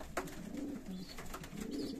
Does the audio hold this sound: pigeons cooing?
yes